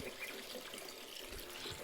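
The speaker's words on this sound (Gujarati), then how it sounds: "મારા મમ્મી પાણી ભરે છે" Mother filling water from a household tap in the morning: a faint, steady stream of running water hisses evenly throughout, quiet and unbroken, with no voices.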